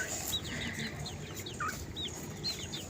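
Chickens, including young chicks, clucking and peeping close by, repeated short soft calls over a steady quiet background hum, no talking.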